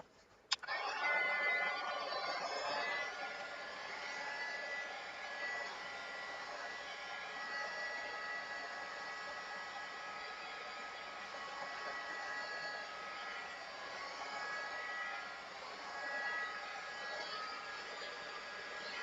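A hair dryer blows steadily on an acrylic painting, starting with a click and then running as a continuous, fairly loud whir for the whole stretch with no talk over it.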